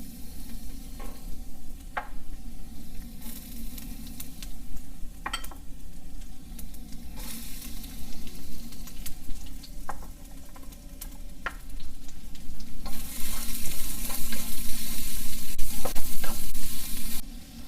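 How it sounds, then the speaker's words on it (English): Ginger, onions and garlic sauteing in oil in a wok for Filipino pancit, a steady close sizzle with intermittent scraping stir strokes, growing louder and brighter toward the end. "we're going to add a little oil to the wok, and we're going to saute the ginger, the onions, and the garlic"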